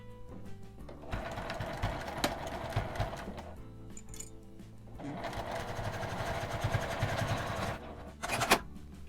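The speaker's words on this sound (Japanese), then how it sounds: "両端を内側に2センチ折り込んでミシンで縫います。" A sewing machine stitches the folded-in fabric edges of a washable cloth face mask in two close, steady runs of rapid mechanical whirring, separated by a brief pause and a small clack.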